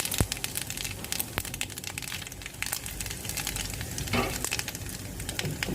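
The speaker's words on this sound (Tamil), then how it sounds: "இப்போ எண்ணெய் நல்லா காஞ்சிருச்சு, நம்ம கடுகை போட்டுக்கலாம். கடுகு நல்லா பொரிஞ்சதுக்கப்புறம் காஞ்ச மிளகாய் போட்டுக்கலாம்." Mustard seeds spluttering in hot oil in a pan while a chow chow kootu is being made, a dense, loud crackle of sizzling with sharp pops throughout, close and without talking.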